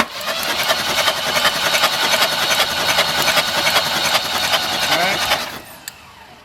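A Volvo engine cranks over with its spark plugs out and injectors disconnected, a fast, even, loud starter-driven whirring for about five seconds that then stops abruptly.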